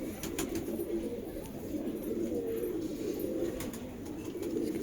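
Pigeons coo steadily in a loft, a continuous low murmuring chorus from several birds, fairly close, with a faint high hiss behind.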